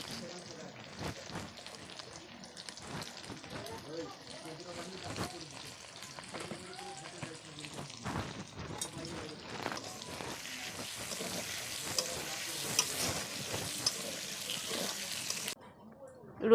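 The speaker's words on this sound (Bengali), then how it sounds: "মাংস ভেজেছিলাম বলে তেলেই বুজবুজটা হচ্ছে।" Chopped onions fry in bubbling oil left from browning meat for a chicken and potato curry, a soft continuous sizzle with stirring clatter, faint and close, as someone talks.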